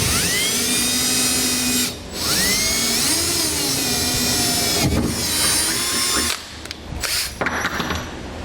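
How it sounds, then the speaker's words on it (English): A small drill bit bores a pilot hole into the bed of a 2019 GMC Sierra pickup, a loud, close, high-pitched whine in steady bursts with short pauses between them and a rattling finish. "We're going to first start by using a small drill bit to make a pilot hole."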